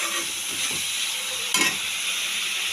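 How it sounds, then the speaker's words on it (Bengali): Prawns sautéing and being stirred in white cooking oil for a banana-flower and prawn ghonto, a steady close sizzle with soft spatula scrapes and one sharper clatter midway. "দিয়ে ভালো করে কষিয়ে নিচ্ছি।"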